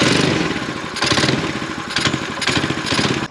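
A small engine on a kid's homemade snowmobile revs on a jack stand, loud and close, surging in repeated bursts of throttle as the track spins freely.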